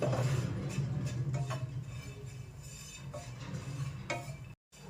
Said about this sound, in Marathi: त्याच पॅन मध्ये आता आपल्याला 1 वाटी खोबरे टाकायचे आहे आणि खरपूस असं सोनेरी रंगावर भाजून घ्यायचं आहे